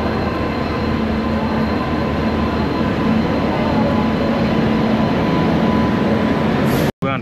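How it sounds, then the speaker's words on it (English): Riding aboard a passenger train in India, a steady loud rumble of the carriage with faint rattling and a continuous hum, one abrupt brief cutout near the end and no speech. "We're on the train"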